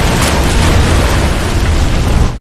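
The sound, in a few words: time bomb exploding in film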